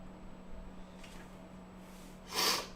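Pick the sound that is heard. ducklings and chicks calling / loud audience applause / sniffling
sniffling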